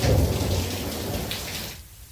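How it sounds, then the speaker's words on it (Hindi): Heavy rain pouring steadily during a cold spell in the border district of Sri Ganganagar in Rajasthan, a dense loud hiss of falling water that fades off near the end. "से ही रुक रुक कर झमाझम बारिश हो रही है"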